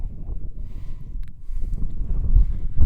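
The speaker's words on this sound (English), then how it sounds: "I don't even know if this video is going to turn out because of this blasted wind" Gusty wind buffets a microphone outdoors at a shotgun demonstration, a low rumbling roar that swells and eases unevenly and grows stronger toward the end, with no speech.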